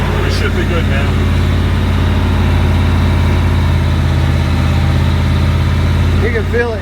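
A Ford FW 30 tractor engine pulling a mole plow runs with a steady, heavy low rumble and constant throb throughout, close and loud, with brief bird chirps at the start and end.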